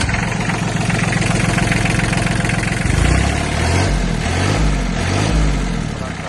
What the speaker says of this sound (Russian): Трактор работает чисто.